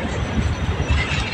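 A train at Koderma railway station in Jharkhand rumbles past close by, a steady loud roar of wheels and carriages with faint squeal.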